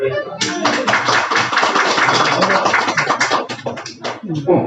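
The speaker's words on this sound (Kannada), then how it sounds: "ನೀವು ಒಂದ್ಸತಿ ಚಪ್ಪಾಳೆ ಜೋರಾಗಿ" Audience at a Harikatha devotional storytelling performance clapping loudly, a dense sustained burst of applause with overlapping claps throughout, mixed with voices.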